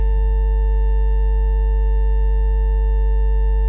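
A steady, sustained additive synthesizer tone from the Neuzeit Warp, built from many stacked harmonics, loud and even, holding unchanged throughout with a slightly buzzy, organ-like timbre.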